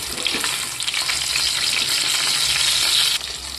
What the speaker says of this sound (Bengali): বাকি সয়াবিনগুলো আমি ওই একইভাবেই ভেজে নেব।